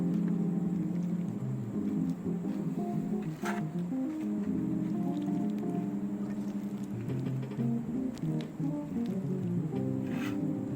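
Paneer, onion and capsicum pieces are gently turned through a thick marinade, giving soft wet squishing and sticky patter that keeps up steadily and close by. A few sharper clicks stand out, and nobody talks.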